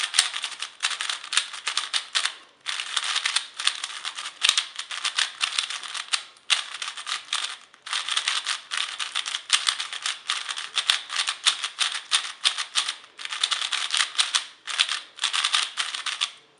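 A Cong's Design MeiYing speed cube is turned rapidly by hand, giving bursts of dry plastic clicking and rattling close up, broken by short pauses between sequences of moves.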